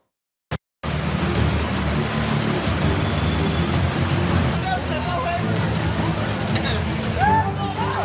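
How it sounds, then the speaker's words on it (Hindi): Heavy monsoon rain pours in a steady, dense roar after a brief click, with faint passing traffic swishing in the background, in Gurugram, India. "मॉनसून ने पकड़ी रफ्तार, बारिश मूसलाधार।"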